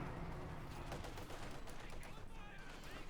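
Dense, sustained gunfire rattles through a Company of Heroes 2 battle, rapid overlapping shots forming a continuous loud barrage with scattered cracks and clatter throughout.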